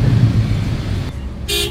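A horn gives a short, loud, bright toot from an angkot minibus in Cirebon, Indonesia. It cuts through a steady low rumble of engine and road traffic heard from inside the vehicle.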